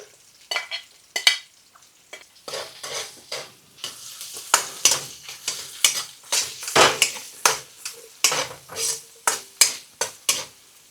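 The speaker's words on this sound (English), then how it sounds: "And then we're going to put our mushrooms in, our chestnut mushrooms." Chestnut mushrooms stir-frying with garlic in a hot pan, a steady sizzle broken by repeated scraping and tossing strokes of a utensil against the metal, close and fairly loud with no talking.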